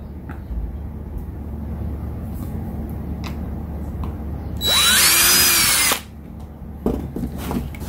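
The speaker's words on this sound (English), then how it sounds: "we're gonna drill some holes for the mounting screws" A power drill bores a mounting-screw hole during a Baja Designs Rock Dome LED light installation on a 2020 Land Cruiser, one loud whining burst of about a second amid quiet background noise and faint clicks.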